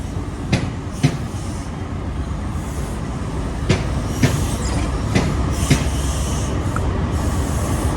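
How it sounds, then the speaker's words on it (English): A CrossCountry passenger train locomotive rumbles steadily nearby with a broad, loud roar, broken by several sharp clanks and knocks as it passes. "This one's actually a passenger train locomotive, cross country."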